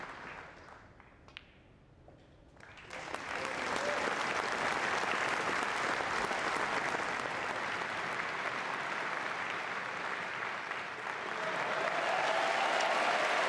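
Snooker crowd at Alexandra Palace during the Masters, cheering Ronnie O'Sullivan: after a quiet opening, loud applause and a roar swell up and carry on strongly to the end.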